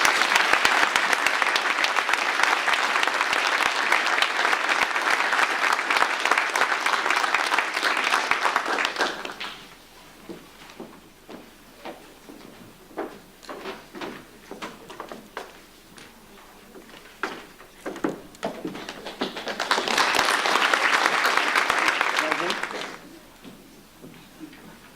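A school hall audience applauds at an achievement certificate ceremony. A loud burst of clapping lasts about nine seconds and is followed by quieter scattered sounds. A second full round of applause rises around twenty seconds and ends shortly after.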